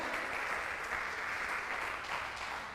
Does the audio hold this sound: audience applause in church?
yes